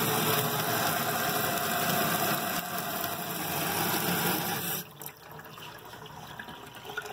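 Water streams steadily from a sink spigot in a steady, broadband rushing hiss for about five seconds, then the flow drops away to a quieter, thinner trickle.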